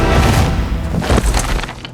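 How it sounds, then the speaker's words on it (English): A heavy, rumbling boom rolls on for a couple of seconds, dense and loud, like a distant explosion with a long echoing tail. "Where was the explosion?"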